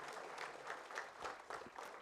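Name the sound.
audience applause welcoming bank CEO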